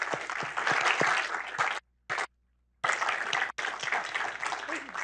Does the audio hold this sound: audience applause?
yes